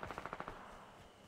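Rapid burst of about seven automatic gunshots in the Fortnite Battle Royale video game, quick and evenly spaced, then a fading tail; fairly faint.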